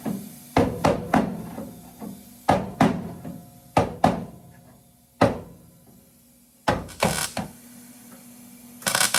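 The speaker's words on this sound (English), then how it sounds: "Let's hammer that." Sharp metallic hammer blows land in irregular clusters on 1972 VW Super Beetle metal, each one ringing briefly before the next strike.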